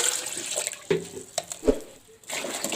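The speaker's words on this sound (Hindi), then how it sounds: "ये तकरीबन मैंने 1/2 लीटर पानी और डाल दिया" Water poured into a pot of thick plum and tamarind pulp for chutney, coming in splashy, uneven bursts with short pauses between, close and fairly loud, no talking.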